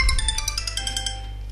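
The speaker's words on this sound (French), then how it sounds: "Le téléphone qui sonne." A phone ringtone chiming out a repeating melodic pattern of bright electronic tones over a low steady hum, fairly loud and close, with no talking.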